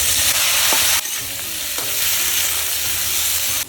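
Potato and bitter gourd pieces sizzling in hot oil in a home kitchen pan, a steady loud frying hiss with spatula stirring and scraping, a sharp clatter partway through.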